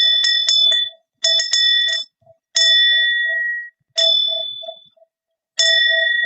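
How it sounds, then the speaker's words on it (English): A densho, a Zen temple bell, struck repeatedly, giving bright metallic rings in quick clustered hits and then single strikes, each ringing out loud and clear before cutting off, with no voices. "So that's the end of the whole bell called densho."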